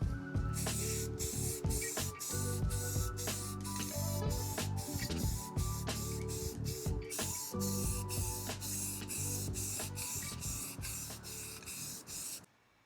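Aerosol spray paint hissing steadily over a Harley-Davidson stunt tank, broken by many short sharp breaks and bursts as coats go on, loud and close, then cutting off near the end.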